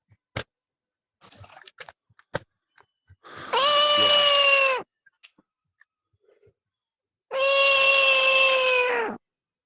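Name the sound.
cat meowing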